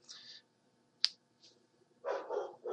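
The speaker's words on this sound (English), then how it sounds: "You can keep fucking barking, you damn fucking woof woof." Dogs bark nearby, a few short, sharp barks spaced out over a couple of seconds, with a longer burst of barking at the end and quiet gaps between.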